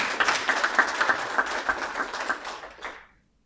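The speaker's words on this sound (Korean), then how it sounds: "박수 한번 크게 부탁드리겠습니다." An audience claps for award winners at a credit union performance ceremony, a moderate round of individual claps that thins out and stops abruptly, leaving silence.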